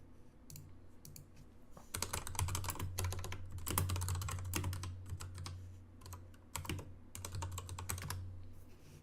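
Someone types rapidly on a computer keyboard in bursts of dense clicking, close and fairly loud, separated by short pauses over a low hum.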